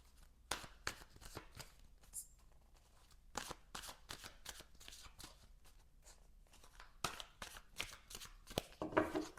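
Tarot cards are shuffled by hand in quick riffling bursts, a series of crisp papery flutters separated by short pauses, close and fairly quiet with no talking.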